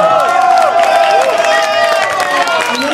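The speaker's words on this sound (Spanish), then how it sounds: "Un aplauso para" Crowd noise at a live show featuring harmonica and vocal performers, with cheering and scattered clapping rising under sustained melodic tones from the stage, loud and close throughout.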